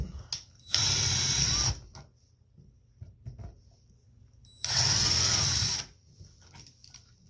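Two screws are backed out of an electrical outlet cover plate, with two bursts of about a second each of close, whirring power driver noise separated by quiet handling clicks.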